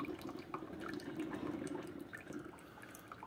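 Hot white vinegar water streams steadily from a Mr. Coffee iced coffee maker into a carafe during descaling, a continuous close gurgling pour with no voices.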